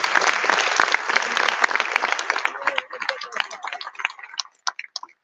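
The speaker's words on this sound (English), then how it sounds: "One more time, a big round of applause there for the Gamo dancers and David Johnson." Loud audience applause for Aboriginal dancers at the opening ceremony of a world congress in Sydney, dense at first, then thinning to scattered claps before fading out.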